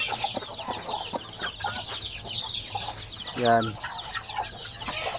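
Chickens with young chicks in a backyard flock, soft scattered clucks and peeps throughout, with one louder, drawn-out squawk midway; a person says a brief word.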